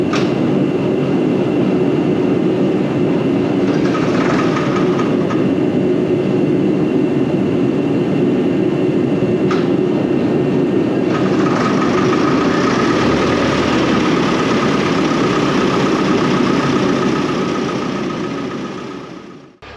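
A diesel tractor engine on starting fluid runs loud and close in a steady, rough drone for about twenty seconds, with a few brief knocks partway through before it fades at the end.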